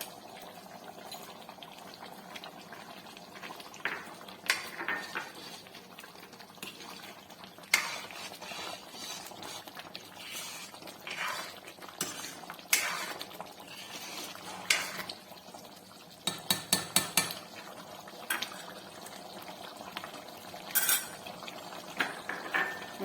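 A pot of mutter paneer curry simmers while a metal spoon stirs it, with repeated clinks and scrapes against the pot, some quick clusters of taps, over a quiet bubbling background.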